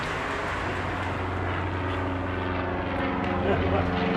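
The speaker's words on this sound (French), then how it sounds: "Un avion." A propeller airplane drones steadily overhead, a continuous engine hum with a slight swell toward the end, while people talk underneath during a 1976 Swiss factory strike.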